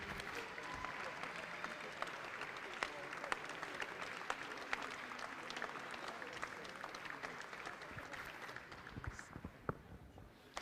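Faint, distant applause rolls through the hall at a French national archery championship final for the cadet classic-bow finalists, a steady crackle of clapping with sharper nearby claps sprinkled throughout.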